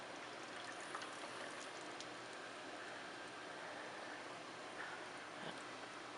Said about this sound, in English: So at this point, you can see the water's coming down.